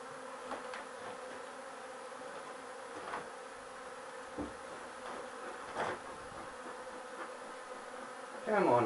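Dense, continuous buzzing of many bees close by, a steady hum with occasional louder passes and a faint voice near the end.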